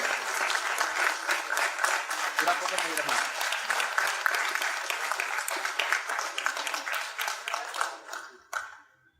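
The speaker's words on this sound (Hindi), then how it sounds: "जोरदार तालियों से स्वागत कीजिए माननीय अध्यक्ष महोदय का" Sustained applause from an audience at a student convention welcoming the chief guest, dense and steady for most of the stretch before thinning and fading near the end.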